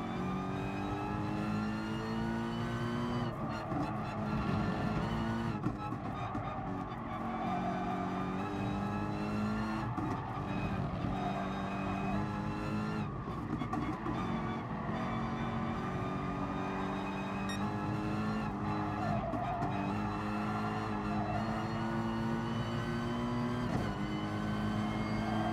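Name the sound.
race cars driving and skidding in the video game GT Sport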